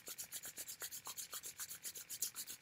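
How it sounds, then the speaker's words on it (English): Palms rubbing briskly together to build heat, a soft, close, even swishing in quick regular strokes about six per second, quiet and with no voices. "So we're going to rub the hands together,"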